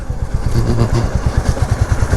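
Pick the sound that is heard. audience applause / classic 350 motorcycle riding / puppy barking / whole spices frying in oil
classic 350 motorcycle riding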